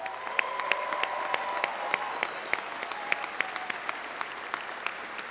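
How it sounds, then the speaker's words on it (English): Audience at a Wentworth summer commencement ceremony clapping in sustained applause, a dense patter of many hands with some louder individual claps, steady throughout. "So let's give him a big round of applause."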